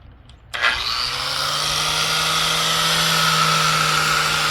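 Power polisher running a coarse pad over a stone tile bullnose edge, starting abruptly and holding a steady, loud grinding whine with a low hum throughout, no talk.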